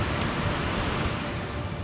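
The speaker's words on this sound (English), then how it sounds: "There it is! The highest waterfall on Earth." Angel Falls, the highest waterfall on Earth, gives a steady, broad roar of falling water that holds evenly throughout with no speech.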